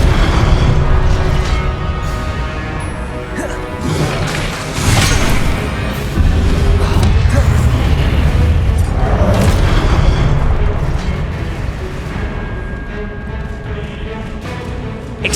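Continuous loud spell-combat din from Hogwarts Legacy, with an Expelliarmus disarming spell amid booming impacts and crashes that run densely for the whole stretch, never settling into quiet.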